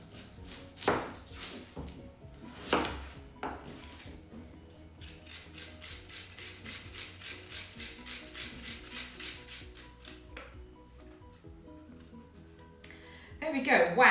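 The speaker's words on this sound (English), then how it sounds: "We're going to grate some onion into it now." Onion being grated for Italian beef meatballs, a run of steady rhythmic rasping strokes close by, with a few heavier knocks early on and a louder clatter at the end.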